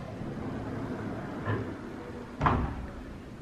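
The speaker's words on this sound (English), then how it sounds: "But through this sliding glass door" A sliding glass door in a resort villa opens with a soft rumble, then a short, firm thump as it moves along its track, faint in a quiet room.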